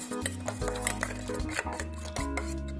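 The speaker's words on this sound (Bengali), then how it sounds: "একটু লঙ্কার গুঁড়ো আর দেব অল্প হলুদ গুঁড়ো খুব ভালো করে ফেটিয়ে নেব ডিমটা" Eggs with salt, chilli powder and turmeric powder are beaten briskly in a bowl, producing quick repeated clinks and scrapes of utensil against the bowl, close and continuous with no talking.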